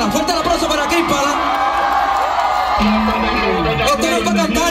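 At a concert in Puerto Rico, a large crowd cheers and whoops continuously, with a loud steady roar of voices and shouting throughout.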